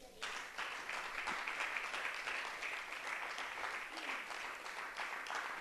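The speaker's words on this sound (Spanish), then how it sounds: "brinden un aplauso al Señor" A church congregation claps in praise, a steady wash of applause starting abruptly and continuing evenly at moderate level, with no voices over it.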